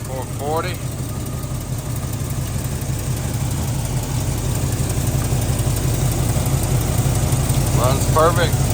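A 1973 Plymouth Cuda with a 440 V8 and long tube headers idles steadily, a loud, even, deep rumble throughout. A few faint bird chirps come in at the start and end.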